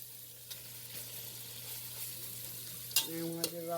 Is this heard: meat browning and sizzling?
yes